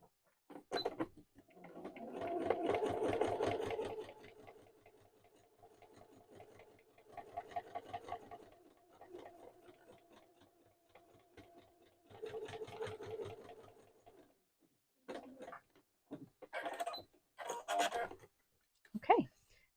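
A sewing machine topstitches a fabric wallet in several short runs, each a steady mechanical whir that starts and stops, with quieter passes and a voice speaking between them.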